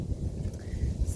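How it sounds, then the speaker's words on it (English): Wind blowing outdoors on a cool, breezy evening in a neighborhood, heard as a brief, steady low rumble of gusts buffeting the microphone, with no voices. "Very windy out here."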